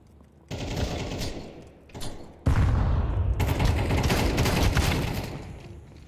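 Rapid bursts of automatic gunfire from the video game Counter-Strike 2 crack out loud and close, starting with a short volley, then a brief one, then a long sustained stream of shots that fades near the end.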